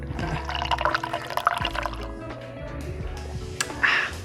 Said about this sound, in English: it just kind of sprays steam onto the actual coffee and then just drips down into the coffee pot